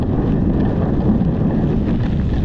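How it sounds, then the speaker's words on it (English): Strong, continuous wind buffets the microphone on a low-visibility mountain descent in the English Lake District, a heavy roaring rush of gusts with no voices. "pretty heavy gusts of wind."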